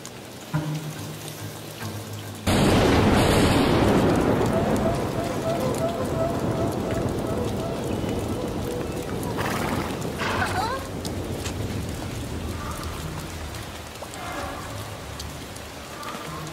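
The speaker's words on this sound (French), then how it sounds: "Cet orage va être très violent." Cartoon thunderstorm in Yakari, with a sudden loud burst of heavy rain that settles into a steady downpour, some crackling thunder rumbles, and voices talking over it.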